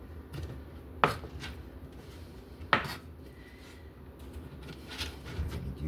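A knife dices food on a cutting board during a late breakfast cook, with two sharp chops standing out over faint, soft cutting and kitchen background noise.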